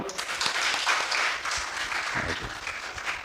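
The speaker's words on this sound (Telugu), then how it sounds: "నమ్మిన వారు చప్పట్లు కొట్టండి అందరూ" Steady applause from a church congregation during a Sunday worship service, dense and continuous clapping filling the room with no break.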